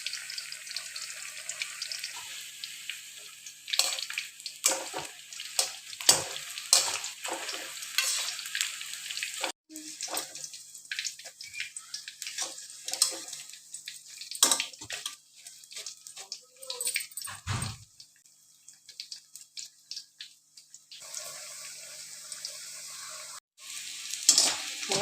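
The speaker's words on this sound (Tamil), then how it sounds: "நான் பாவக்காய் பொரிச்சு எடுத்துக்கிறோம்" Battered bitter gourd pakoda frying in hot oil, a continuous close sizzle and hiss broken by scraping, stirring clatter and occasional louder bursts.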